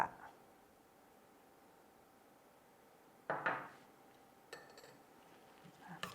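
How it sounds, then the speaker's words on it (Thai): Bamboo shoot soup with roasted rice and fresh lime juice being stirred in a bowl: a few faint, scattered clinks and scrapes of utensil against the bowl, separated by quiet stretches. "คนทุกอย่างให้เข้ากันก่อน"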